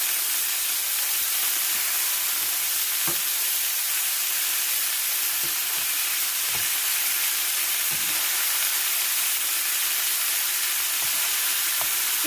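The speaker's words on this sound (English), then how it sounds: "we're searing the chicken" Chicken sears in a hot pan with a steady, bright sizzle that runs continuously, broken by a few faint clicks and taps, with no voices.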